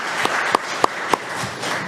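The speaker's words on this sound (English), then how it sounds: "You can give a round of applause." At a school board meeting, a small audience applauds in a short burst, with a few distinct claps close by over a soft background of clapping.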